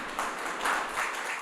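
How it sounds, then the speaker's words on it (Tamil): An audience at a Christmas-season debate event breaks into brief applause, a moderate burst of many hands clapping that rises and falls in short waves, with no talking. "அவருக்கு ஒரு பலத்த பாராட்டுக்களை கைத்தட்டல"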